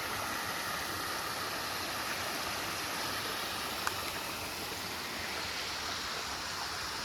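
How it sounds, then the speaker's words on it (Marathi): Forest stream flowing steadily as a continuous broadband rush of water, close and unbroken, with one brief click partway through and no voices. "इथं ओढा आहे आम्ही मस्त छान पाणी चाललं ओढ्यामधलं"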